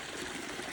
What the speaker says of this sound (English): So first of all, here's the creek.